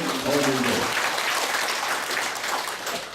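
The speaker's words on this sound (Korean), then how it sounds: "박수 한번 주세요" Broad applause from an audience at a Korean overseas war veterans' association general meeting fills the space, a continuous wash of clapping that begins just as a voice trails off.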